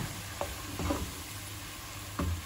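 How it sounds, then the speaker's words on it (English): Diced onions fry in a pan, giving a steady sizzle with a few soft stirring scrapes close by. "now she's adding the diced onions until they become golden"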